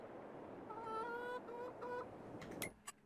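Chickens in the Farming Simulator 22 video game give a few clear, drawn-out clucking calls near the middle, over a low hum, followed by brief clicks.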